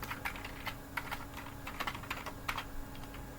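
Keystrokes on a computer keyboard while Go code is entered, in quick, irregular taps with short bursts and pauses, close and fairly quiet over a low steady hum, with no voices.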